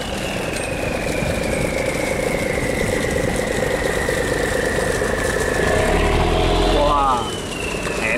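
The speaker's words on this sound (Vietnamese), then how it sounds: "Wow, tiếng máy cũng phê ha." A small river barge's diesel engine drones steadily and loudly throughout, a continuous low rumble with a rising then falling whine as it passes close by near Ben Tre.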